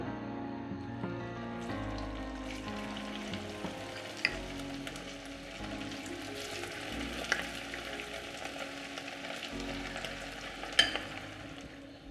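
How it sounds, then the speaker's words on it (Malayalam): Chicken pieces fry in sunflower oil for chilli chicken, a steady crackling sizzle at moderate level with occasional louder pops and light stirring knocks throughout. "നമുക്ക് ചിക്കൻ പീസസ് എണ്ണയിലോട്ട് ഇട്ട് കൊടുക്കാം."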